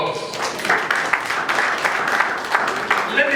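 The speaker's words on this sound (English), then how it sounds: "Please start giving a good round of applause." An audience gives a round of applause, a steady wash of clapping at moderate volume, with voices mixed in beneath and around it.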